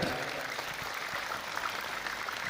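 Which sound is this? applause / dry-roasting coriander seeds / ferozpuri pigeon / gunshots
applause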